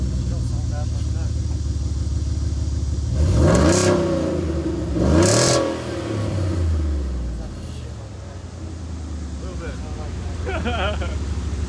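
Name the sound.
truck engine revving with exhaust, no muffler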